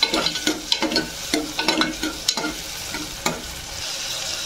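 Tomatoes frying in a pan while being stirred and browned, a close, steady sizzle broken by repeated scraping taps of a spoon against the pan.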